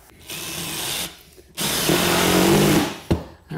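A power drill drives screws through subfloor into a floor joist, with two bursts of whirring motor, the second longer and straining under load, separated by short pauses and ending with a brief clunk.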